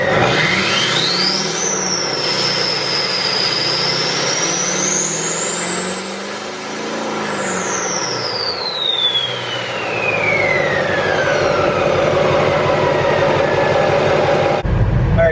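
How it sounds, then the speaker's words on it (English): A Duramax diesel engine revs up with a rising whine, holds high, then winds back down, loud and steady throughout with no talking. "I'm going to go ahead and rev it up"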